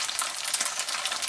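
Macaroni fries in oil in a pan at a remote taiga cabin camp, a dense, steady hiss and crackle of sizzling close up with no voices.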